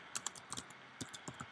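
Typing on a computer keyboard while writing code, with quick irregular clicks of keys close by in two small bursts, quiet and with no talking.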